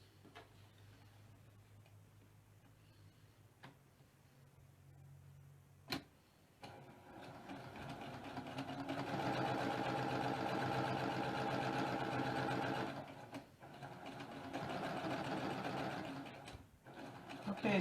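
A sewing machine stitches a quilt strip with a steady, close mechanical whir, starting after a few light clicks and running through several seconds with a short pause before it resumes.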